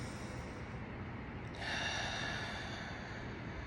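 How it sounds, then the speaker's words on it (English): A single deep breath taken during a guided meditation, a soft airy inhale swelling midway through and holding steady over a constant low background hiss, with no talking. "if you take a deep breath with me"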